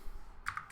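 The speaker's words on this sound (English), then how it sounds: "let's go and type in our numbers" Numbers are typed on a computer keyboard, a few quick, light key clicks close by with no talk over them.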